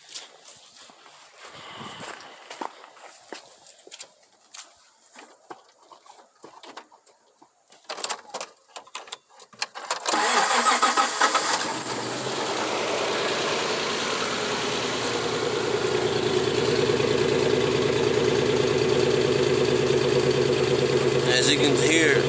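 A 1990 Toyota 4x4 with a misfiring engine starts up after some handling noises and a voice. It then settles into a continuous close idle that runs to the end.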